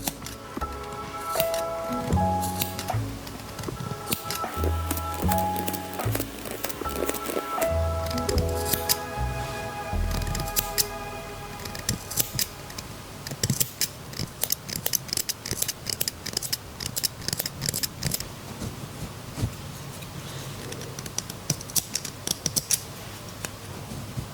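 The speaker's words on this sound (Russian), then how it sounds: "Теперь я разрезаю петли." Small scissors snip repeatedly through embroidery thread loops on a t-shirt, a close run of crisp clicks and snips that grows denser toward the end, with no talking.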